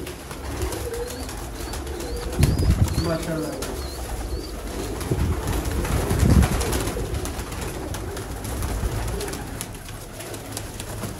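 Parwazi pigeons coo repeatedly at close range, with some wing flapping and faint chirps, while someone speaks briefly over the birds.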